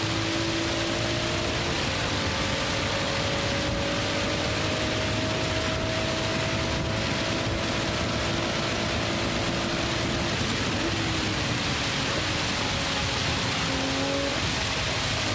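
Rain pours steadily during a Le Mans race in the video game Gran Turismo 7, a constant dense hiss with a car engine droning and shifting pitch underneath.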